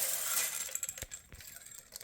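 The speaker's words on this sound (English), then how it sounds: "And now we'll pour in 2 cups of frozen corn." Frozen corn kernels tumble into a pot of white chicken chili, making a short patter of light clicks and rattles over quiet kitchen background noise, with no talking.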